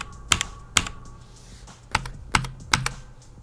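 Mechanical keyboard with Cherry MX switches being typed on, six sharp clacky keystrokes in two irregular groups, close and distinct over a quiet background.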